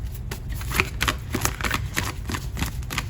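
Light Seer tarot cards shuffled by hand close up, a continuous rapid riffling and flicking of card edges with soft taps, steady for about three seconds with no talk.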